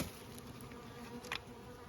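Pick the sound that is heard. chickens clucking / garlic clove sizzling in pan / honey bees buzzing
honey bees buzzing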